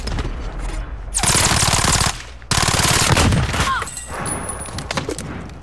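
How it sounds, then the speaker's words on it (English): Gunfire in Call of Duty: Modern Warfare, loud sustained bursts of rapid automatic fire, near and dense, broken by a short pause, then more firing that tapers into scattered shots. "Someone's just shooting at me."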